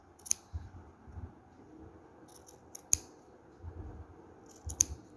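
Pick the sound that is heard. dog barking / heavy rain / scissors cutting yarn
scissors cutting yarn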